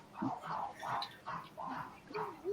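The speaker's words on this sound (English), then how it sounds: "Yeah, I hear him barking." A dog yips and barks in short, whimpering bursts, somewhat distant and muffled, with faint voices mixed in.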